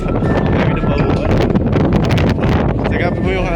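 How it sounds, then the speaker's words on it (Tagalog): Heavy wind buffeting a microphone outdoors on a ride, a loud continuous roar and rumble that swamps everything for the whole stretch. "Sagapin mo yung hangin."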